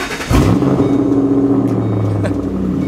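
A Ford Mustang GT's loud exhaust roars close by from behind the car, rising in pitch as the engine revs and then holding a deep, rumbling drone.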